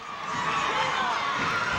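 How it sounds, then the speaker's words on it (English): High school wrestling crowd at a Wayne Hills versus Wayne Valley match in 2003 erupting after a takedown, a sustained, loud roar of cheering voices filling the gym, with shouts rising over the din. "the crowd erupts"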